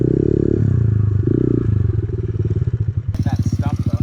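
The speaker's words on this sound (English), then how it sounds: "Bike only knows the limiters." Pit bike engine bouncing off its rev limiter, a loud near stuttering buzz that pulses rapidly and rhythmically, with a voice talking over part of it.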